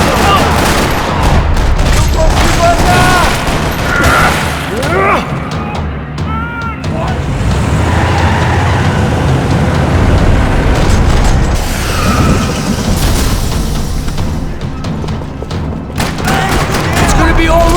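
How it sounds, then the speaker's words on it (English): Sustained gunfire rattles through a parking lot in the Max Payne 3 video game, dense bursts and booms with possible vehicle noise and skids, loud throughout and mixed with voices. "Another parking lot rattling with gunfire."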